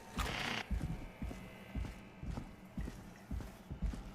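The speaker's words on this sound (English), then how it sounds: "Your footsteps." Footsteps in the horror video game Killer Frequency, a series of hollow, evenly spaced steps with faint creaks, fairly quiet, opening with a brief burst of noise.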